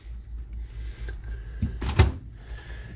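The freezer drawer of a Samsung double-door fridge with an ice maker, inside a loft tiny house, slides open with a soft rumble and a sharp clunk near the middle, close by and fairly quiet.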